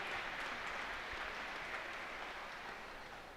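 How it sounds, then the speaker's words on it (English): A crowd applauds the Plymouth Whitemarsh 2020 senior class at a boys basketball senior night against Hatboro-Horsham, a steady wash of clapping that fills the gym evenly and slowly fades toward the end. "There goes a round of applause for our 2020 seniors."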